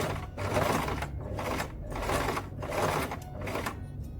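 A sewing machine stitches a dart on satin wide-legged pants, running in a steady, close, continuous whir with slight rhythmic pulses and no talking.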